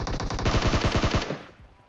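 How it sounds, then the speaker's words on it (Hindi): Automatic gunfire in a shooting video game, a rapid burst of about a dozen loud, close shots fired while jumping through the air, trailing off into a fading echo. "भाई कूदते हुए बिल्कुल हवा से फायरिंग देते हैं"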